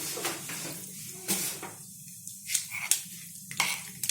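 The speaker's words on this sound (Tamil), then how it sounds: "எண்ணெய் காஞ்சோன்னையும் இப்படி கடுகு போட்டுக்கணும்." Mustard seeds crackle and pop in hot oil in a kadai for a roadside kadai-style dish, a steady close sizzle broken by sharp bursts of spitting and popping.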